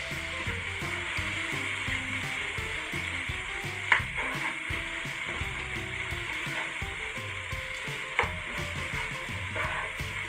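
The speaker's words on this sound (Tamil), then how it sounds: "இப்போ தக்காளி பழமெல்லாம் வதங்கிட்டு இதோட புதினா கொத்தமல்லியையும் போடுறேன் வதங்குறதுக்கு" Tomatoes, mint and coriander sautéing in a pan for chicken biryani, a soft steady sizzle with faint stirring scrapes and a couple of sharp utensil knocks, heard alone without talk.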